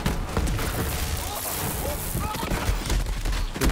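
Assault rifle fire in Borderlands 3 co-op combat: dense, continuous bursts of shooting with heavy booms and explosions layered throughout, loud and chaotic, with a voice speaking over the battle.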